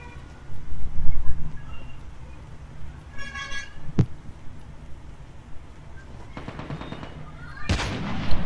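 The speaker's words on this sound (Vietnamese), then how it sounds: "giờ tiếng súng ghê vậy" Sharp gunshots crack amid rumbling Call of Duty Mobile game sounds, a single loud report followed later by a harsh burst of rapid fire.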